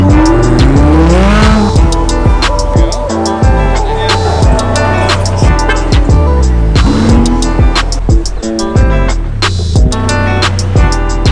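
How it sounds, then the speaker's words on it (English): Supercars cruising a Miami street, loud engines revving and tires squealing in bursts, with dense harmonic engine tones sweeping up and down as cars pass close by, continuous throughout. "seeing all of the awesome supercars"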